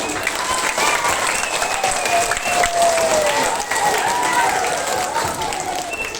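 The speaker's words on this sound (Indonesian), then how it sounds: "Aplaus yang meriah untuk Ustaz Almi" Loud, sustained applause from a school audience at a Maulid Nabi celebration, steady clapping filling several seconds after a motivational talk by a religious teacher, with a voice speaking faintly underneath.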